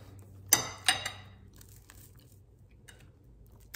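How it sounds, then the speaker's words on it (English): Loud chewing close to the mic: two sharp crunchy bites near the start, followed by softer, fainter mastication noises that trail off. "I'm sorry if I'm chewing loud"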